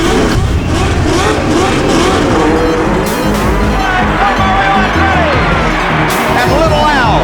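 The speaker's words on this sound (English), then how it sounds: "Gentlemen, start your engines." Race car engines start and rev at the Long Beach Grand Prix, a dense loud roar of several engines with rising and falling revs, mixed with crowd noise and a voice speaking over it.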